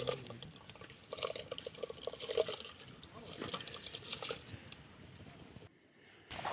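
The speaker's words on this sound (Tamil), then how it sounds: "அரிசி கழுவி உலையில் போட்டுக்கலாம்." Rice being washed in water before going into a cooking pot: soft sloshing and trickling water with faint splashes, a quiet kitchen scene with a brief pause near the end.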